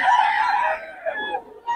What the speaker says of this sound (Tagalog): ganda ng manok ni Boss Kya